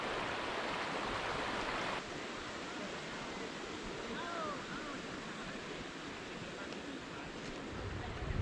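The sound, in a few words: creek flowing into a lake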